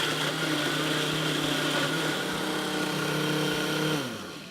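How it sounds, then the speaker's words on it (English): Blender running steadily while blending a breakfast smoothie, a dense continuous whir at moderate level that winds down near the end, with no talk. "you wanna let that run, you know, depending on your blender, long enough to make sure everything gets nice and smooth"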